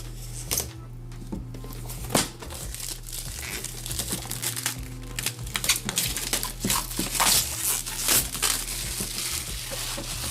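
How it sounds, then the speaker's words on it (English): Cardboard headphone box being cut open at the side, a close series of crinkling, crunching and tearing bursts with small taps over a steady low hum. "I'm going to cut open the box and take a look at it"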